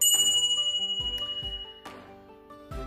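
A bright notification bell chimes several times in a row, each ding ringing out clear and sustained over a low tonal bed, with no voices.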